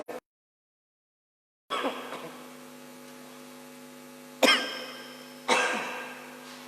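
Two separate harsh coughs ring out in a quiet room during a church service, over a steady electrical hum, each followed by a short fading tail.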